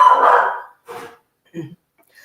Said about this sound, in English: Somebody's delivering something, so Mr. Beasley is barking at.